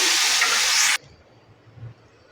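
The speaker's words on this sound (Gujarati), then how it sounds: "અહીં તેલ ગરમ થઈ ગયું છે તો તેમાં હિંગ, કઢી પત્તો, મરચાંનો વઘાર કર્યો છે।" Asafoetida, curry leaves and chillies dropped into hot oil for a tempering set off a loud, close burst of sizzling hiss that lasts about a second, then cuts off abruptly to near silence.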